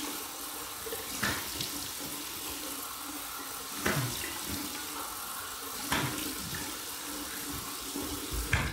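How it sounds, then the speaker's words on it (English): Cold water pouring steadily from a tap into a sink, a continuous close hiss and splash with a few brief surges as the flow shifts. "Now we're going to do cold water"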